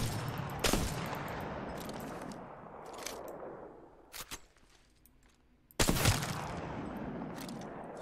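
Bursts of gunfire from a weapon in Apex Legends, a sharp crack followed by sustained rattling volleys that drop into a brief lull before another loud burst resumes.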